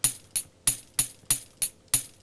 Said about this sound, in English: like a little kind of jingly percussion